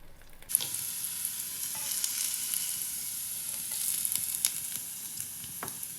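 Cooked onions sizzling in a frying pan, a soft continuous hiss starting after a brief quiet moment, with occasional stirring clicks, close and alone.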